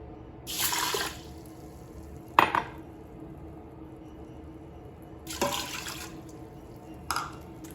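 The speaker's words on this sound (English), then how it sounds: "And now I will add 2 cups of water." Two cups of water pour into an Instant Pot in a few short splashing bursts, with light clinks of a container in between, in a quiet kitchen.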